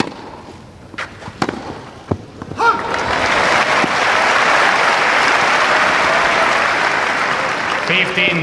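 A Wimbledon tennis crowd breaks into loud, sustained applause after a few scattered claps, the clapping swelling into a dense roar that holds steady, with commentators' voices faintly beneath it.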